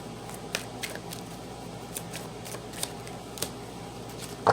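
Tarot cards shuffled by hand, soft papery riffles and flicks in irregular bursts over a steady low room hiss, close and fairly quiet, with no talk.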